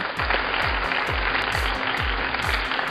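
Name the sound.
audience applause for cooking competition winner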